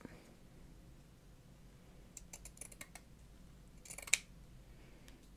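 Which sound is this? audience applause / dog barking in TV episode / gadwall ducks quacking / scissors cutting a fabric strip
scissors cutting a fabric strip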